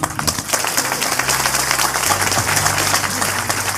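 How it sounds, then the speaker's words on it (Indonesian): Dense applause from a large audience at a gathering with Mbah Nun, steady clapping filling the whole stretch with a low hum beneath. "Tepuk tangan untuk Mbak."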